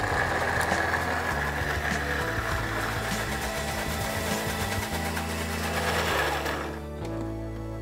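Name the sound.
blender mixing pesto with olive oil and parmesan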